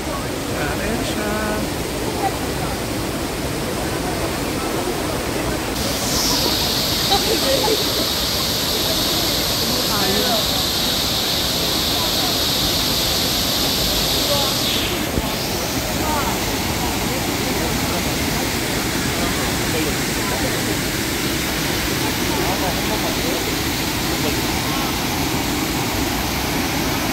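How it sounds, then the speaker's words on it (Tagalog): Shifen Waterfall in Taiwan roars as a steady, dense rush of falling water, loud and constant throughout, with a faint high tone in the middle stretch. "Ito guys yung Shifen Waterfalls."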